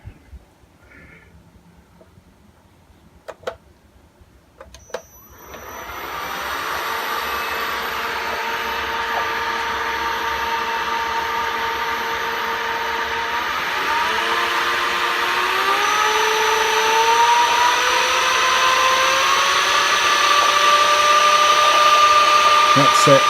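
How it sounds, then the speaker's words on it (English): A salvaged AL960B metal lathe spins up from quiet after a few clicks into a steady high-pitched whine, rising further in pitch and loudness partway through as it runs at high speed, alone without talk. "So this is the lathe going"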